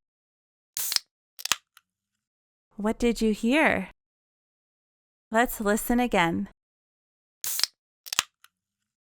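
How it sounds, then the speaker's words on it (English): A soda can snaps open with a sharp crack and brief fizzy hiss, heard twice as short bursts with talking in between. "That's a soda can opening,"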